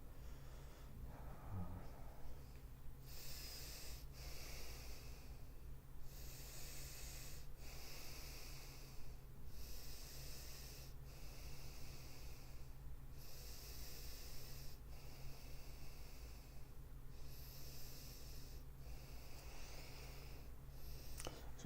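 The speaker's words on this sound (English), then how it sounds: "I'm really struggling with my breath now." Laboured, struggling breathing with shallow repeated breaths and snorting wheezes close by, in uneven bursts over a low steady background hum, no talking.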